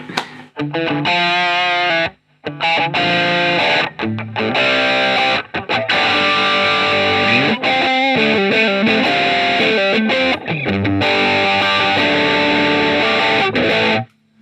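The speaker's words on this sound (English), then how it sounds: "So this was what I called the A1 distortion." A heavily distorted electric guitar through a Zoom 505 multi-effects pedal's distortion preset plays loud, sustained chords and riffs with a few brief pauses, saturated and buzzy throughout.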